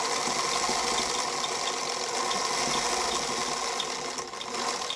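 A sewing machine stitching a tapestry holiday pillow gives a steady close mechanical whirr with rapid rattling needle action, continuous throughout and dipping slightly near the end, with no talk.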